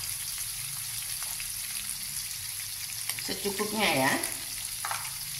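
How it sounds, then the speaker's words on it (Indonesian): Shallots, garlic, bird's eye and large chilies with ground shrimp paste stir-frying for spinach, a steady close sizzle running throughout, with someone briefly speaking over it near the end. "bawang merah, bawang putih, cabai rawit, cabai besar, yang terasinya sudah diulek dan ditumis ya"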